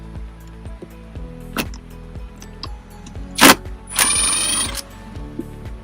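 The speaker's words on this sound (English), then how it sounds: "take out one bolt, take out the second bolt," Bolts on the cabin filter cover of a 2017 Ford F-150 being removed with a 7mm tool, close plastic clicks and a rapid ratcheting burst followed by a brief scraping rustle, over a steady low hum.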